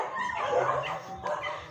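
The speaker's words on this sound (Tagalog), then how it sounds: "Ba't ang iingay ng mga aso dito?" Several dogs bark and yip noisily close by, sharp overlapping calls mixed with a whining tone, one burst after another with no talk.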